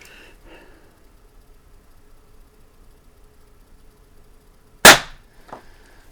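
A single sharp shot from a brand-new Diana Chaser .22 caliber CO2 pistol fired at a paper target, a loud crack standing alone against quiet background, followed by a faint secondary tap.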